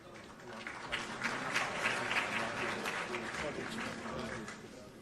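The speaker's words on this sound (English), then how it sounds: "Oh, please, let's give them a round of applause" Guests at a presidential swearing-in ceremony for Ghana's Chief Justice applaud the heads of security services, a fairly faint, distant patter of clapping swelling briefly in the middle with some voices.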